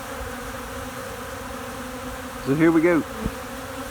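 Honeybees buzzing around a feeder outdoors: a steady low insect hum, with a brief louder close pass of buzzing near the listener and a short spoken phrase at the start.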